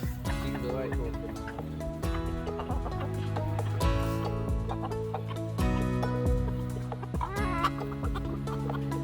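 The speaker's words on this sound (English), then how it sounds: "We had some old bananas, so we're feeding them to the chickens." Chickens being fed old bananas cluck repeatedly in short, close bursts with some louder squawks, while people talk over them throughout.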